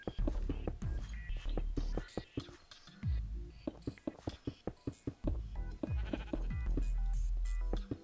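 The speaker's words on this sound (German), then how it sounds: "Jetzt habe ich mich vom Schaf erschrocken." Sheep in the Minecraft video game bleat repeatedly in short, sharp bursts, clustered and close, mixed with a few soft game sounds and quiet background noise.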